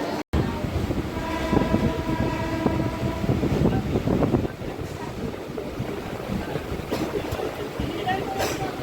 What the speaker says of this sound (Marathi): छत्रपती शिवाजी महाराज टर्मिनस आपली ही ट्रेन लागली